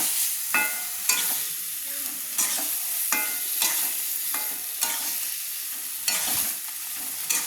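Potatoes and prawns sizzle in a pan as they fry for a prawn malai curry. A spatula scrapes through them in repeated strokes, each stir briefly louder over a constant, fairly soft hiss. No one speaks.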